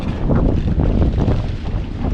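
Steady wind roars against the microphone, a dense low rumble with no pauses, heard up close.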